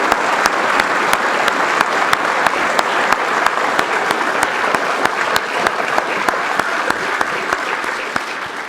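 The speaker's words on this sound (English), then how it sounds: "please give him a round of applause" An audience applauds a guest at a tribute event, sustained clapping with sharp individual claps standing out, steady and loud from start to finish without talk.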